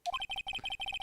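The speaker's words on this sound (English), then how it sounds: "I heard a phone ring just now." A phone ringtone from the Phoenix Wright: Ace Attorney video game, a quick electronic melody of short repeated two-tone chirps in rapid pulses, clear and alone over about a second.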